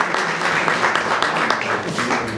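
An audience at a writers' gathering applauds, a moderate patter of hand claps lasting a couple of seconds with a faint murmur underneath.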